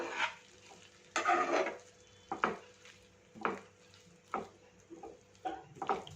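Greens being stirred with masala in a pan, a series of distinct scraping and clinking strokes of a spoon against metal, close and irregular, over a faint sizzle.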